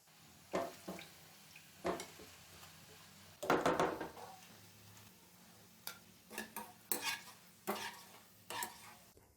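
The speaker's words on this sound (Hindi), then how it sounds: "ये देखिए प्याज हमारे ब्राउन हो गए हैं।" Browning onions fry in a pan for egg biryani, with a spatula scraping and clicking against the metal in irregular strokes over a faint, steady sizzle.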